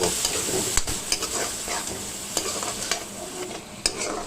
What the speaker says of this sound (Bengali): দিয়ে দিলাম টমেটোর পেস্ট সবগুলোকে ভালো করে ফ্রাই করব